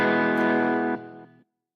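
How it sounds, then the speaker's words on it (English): A single electronic reminder chime marking the halfway point of a walk rings bright and clear, holding briefly before fading out in two quick steps to silence. "that sound is your halfway point reminder"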